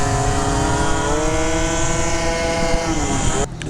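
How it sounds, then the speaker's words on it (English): A Yamaha Zuma scooter engine drones steadily on a cold night test ride, a loud, close, continuous hum with gently shifting pitch that drops away suddenly at the end. "We got the homie Dave out here on his bike right now, test riding it"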